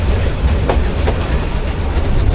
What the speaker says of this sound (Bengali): এই ট্রেনগুলোর ইঞ্জিন যেগুলো, এগুলো সে ব্রিটিশ আমলের ইঞ্জিন, এখনও চলতেছে।